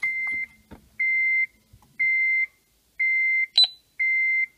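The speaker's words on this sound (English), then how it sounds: "That beep you just heard" A series of five steady electronic beeps, evenly spaced about a second apart, clear and close, with a brief chirp between the last two.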